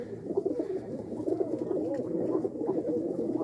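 Pigeons of hand-raised fancy breeds coo in a loft, soft repeated throaty calls overlapping continuously at close range.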